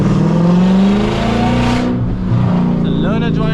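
A loud Audi V8 engine revs hard while driving, a deep, throaty roar that climbs in pitch, eases off, then picks up again with rising whines, close and dominant inside the car.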